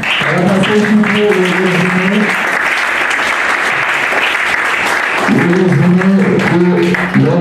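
Audience applause at an official launch event for an NGO, loud sustained clapping filling the whole stretch while a voice speaks over the start and end.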